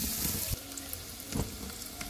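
Onions frying in oil in a pot for dal, a soft, low sizzle with a couple of brief stirring clatters, fairly quiet and close, no talk.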